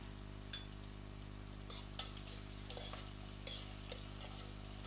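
Onions frying in a pan for a tamarind-leaf mutton curry, a faint sizzle with a few soft stirring scrapes and clinks over a steady low hum.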